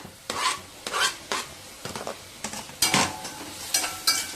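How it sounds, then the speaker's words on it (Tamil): Onion and tomato sautéing in a pan, with repeated scraping stir strokes about every half second to second over a soft background sizzle, close and fairly loud, no talking. "நல்லா வதக்கிக்கலாம்"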